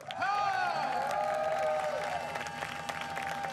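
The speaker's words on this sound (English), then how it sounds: "now listen to a big cheer as well" A trackside crowd at a truck racing grand prix cheers and applauds for driver Jochen Hahn, a sustained roar of clapping and whoops with a loud horn-like tone early on, steady throughout.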